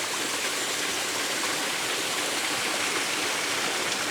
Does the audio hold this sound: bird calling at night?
no